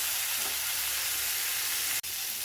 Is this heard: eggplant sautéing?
yes